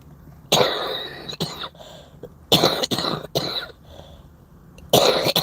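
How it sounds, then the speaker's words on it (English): Several harsh coughs from a person with a head cold in separate bursts, with short pauses between them, close and fairly loud. "I have a head cold, so the coughing may come"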